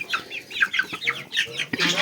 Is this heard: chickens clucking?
yes